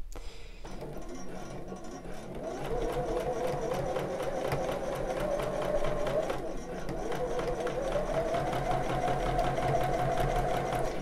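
A domestic sewing machine stitches a bra seam in a steady, continuous mechanical whirr that picks up after a brief start and runs close and loud for the rest of the clip, with a voice talking over it.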